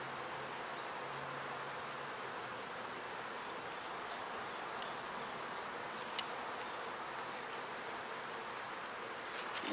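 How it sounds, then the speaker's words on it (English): Steady, dense buzz of agitated honeybees swarming around a beekeeper standing at the hive entrance, a continuous hum with no talk over it. "I got bees flying all around me. They're not happy with me."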